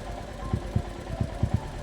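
A motorcycle engine during a coastal ride in Konkan, a low rumbling idle-like drone with several soft rhythmic thumps.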